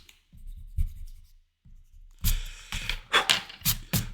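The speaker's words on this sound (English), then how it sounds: "let me just rub out some of that messy sketches I put into that" Eraser rubbing out pencil sketch lines on paper for a graphics drawing exercise, a series of short scratchy strokes, soft at first and then louder and quicker, heard up close.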